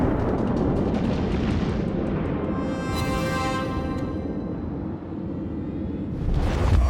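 Naval guns fire and shells strike in World of Warships, with a USS New Orleans cruiser scoring hits: a dense, rumbling roar of blasts fades into a ringing tail, then a fresh heavy burst near the end.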